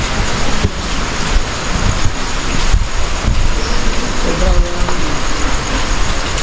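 Gusty typhoon Pepito wind in Bicol at dawn, a continuous rushing roar buffeting the microphone, with rumbling low gusts throughout and no rain.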